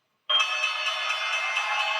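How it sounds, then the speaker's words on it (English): The opening bell rings on the trading floor of the New York Stock Exchange on Wall Street, a sustained bright metallic ring that starts abruptly and holds steady at constant loudness, with no talk over it. "Trump basking in the glow on Wall Street, ringing the bell at the New York Stock Exchange for the first time"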